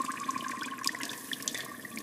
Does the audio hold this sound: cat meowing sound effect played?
no